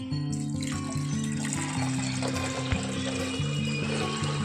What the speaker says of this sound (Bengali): এর মধ্যে এবারে আমি দিয়ে দিচ্ছি জল।